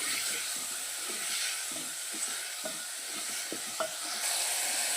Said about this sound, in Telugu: సన్నగా కట్ చేసేసుకొని ఈ టమోటాలను కూడా కొంచెం వేగనిద్దాము